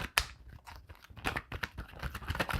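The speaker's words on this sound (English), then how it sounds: "Let me shuffle these cards better." A deck of tarot cards being shuffled up close, a quick run of crisp papery riffles and flicks with one sharp snap near the start, quiet and without talking.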